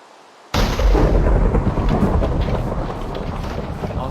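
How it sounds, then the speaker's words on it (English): Thunderstorm in Minecraft Bedrock Edition: a sudden loud thunderclap breaks out of near silence, then rolls on as a heavy, sustained rumble with rain-like hiss. "So, like, the moment I walked down here, a thunderstorm started?"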